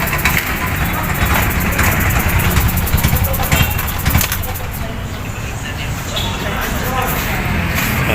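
A Bajaj RE engine idles roughly and unevenly with an abnormal, fluctuating idle, a loud close rumbling chatter that continues steadily throughout.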